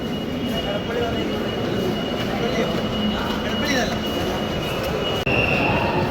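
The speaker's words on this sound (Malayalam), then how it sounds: "അപ്പോൾ ട്രെയിൻ വരുന്നുണ്ട് ഫുള്ള് തിരക്കാന്ന്" A steady rumble of a crowded train arriving along the tracks near Edappally, with a faint metallic squeal, close and continuous, with a crowd murmuring underneath.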